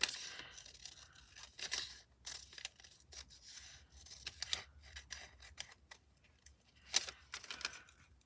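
Scissors snip through a piece of fabric for a stitchery calendar project, crisp cutting strokes coming in uneven bursts with short pauses, close and fairly quiet, no talking.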